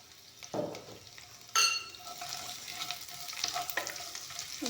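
Onions and panch phoron spices frying together in a pan, a moderate sizzle building after a couple of sharp pan clatters and stirring scrapes early on, nearby and without speech.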